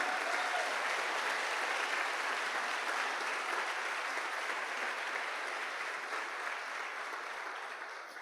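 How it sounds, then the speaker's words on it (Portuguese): A church congregation claps loudly in a dense, continuous wash of applause that gradually tapers off toward the end, with no speech on top. "Dê um aplauso bem forte porque Ele é fiel."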